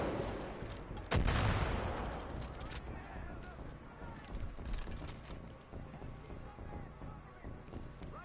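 Gunfire in Far Cry 5 aimed at enemy snipers: one heavy, booming shot or blast with a long rumbling tail, followed by wind-like ambient noise and scattered softer reports.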